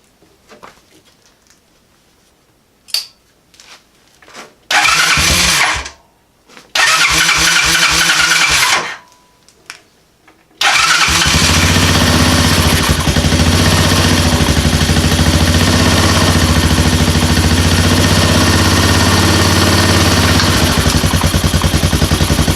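An engine with a carburetor needing adjustment cranks in two loud bursts with pauses between, then catches and runs, idling loudly and steadily for the rest of the time.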